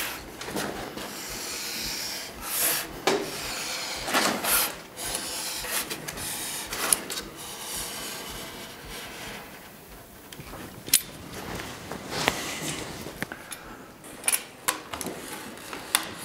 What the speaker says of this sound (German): Ich schneide jetzt hier entlang und dann gibt es die Taillierung vom Ski.